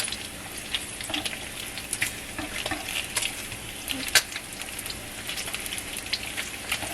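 Four half-cut strips of bacon sizzle and crackle in a pan while being flipped over, a steady hiss with scattered pops and a sharp clatter midway, near and fairly loud with no talk.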